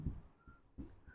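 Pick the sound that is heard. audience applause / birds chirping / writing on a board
writing on a board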